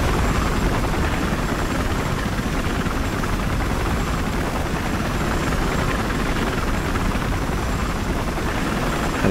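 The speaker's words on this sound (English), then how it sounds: "Transport, or attack chopper just taking off." A transport or attack helicopter takes off in the video game Battlefield Hardline, a loud, steady, dense rotor and engine roar filling the whole stretch without letup.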